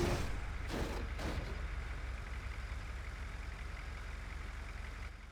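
An ambulance engine idles with a steady low rumble, holding constant for several seconds with no talking.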